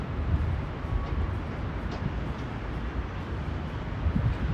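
Broad, steady city ambience of Bogota heard from high up, a dense low rumble of distant traffic and wind with faint, scattered higher details and no clear voices.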